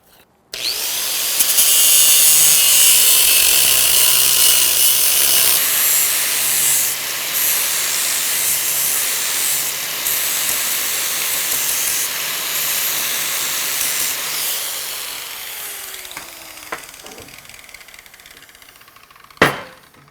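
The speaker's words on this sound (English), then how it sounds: "I'll start off with a cutoff disc and then work my way back over to finally a flapper wheel" A cutoff disc grinds into a steel Halligan bar, a loud bright hissing screech sustained for about fifteen seconds that slowly eases off, followed by a few light metallic knocks.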